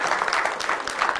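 A church congregation claps steadily during an evening service, a dense patter of many hands filling the moment without pause.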